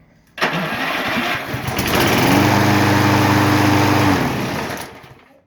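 A Poulan Pro small engine catches on its electric starter and runs steadily and loudly, with a droning hum that settles into an even run before cutting off near the end.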